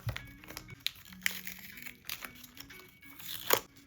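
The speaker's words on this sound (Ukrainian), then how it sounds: "Далі я хочу відкрити ось цей ось пакетик." Crinkling and rustling of a paper packet being opened, with irregular crisp tearing bursts close by over a few seconds.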